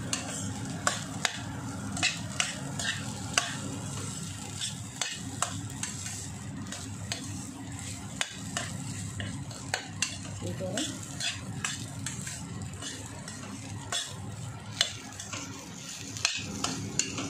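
Egg fried rice stir-fried over a high flame, a steady sizzle broken by repeated sharp spatula scrapes and clinks against the pan, close and continuous with no talking.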